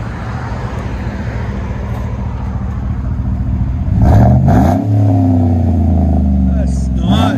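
Chevy Tahoe 5.3L V8 fitted with a Dynomax Race Bullet exhaust, idling with a steady low rumble, then revving loudly into a deep, classy tone that holds, with a second short rev at the end; people talk over it.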